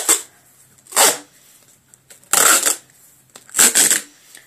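Duct tape ripped in three loud, close bursts of tearing, each about half a second long with short quiet gaps between, while covering a DIY notebook.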